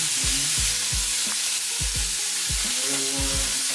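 Thick cut peppered bacon frying in a pan, a loud continuous hiss and crackle with a voice talking in short bursts over it.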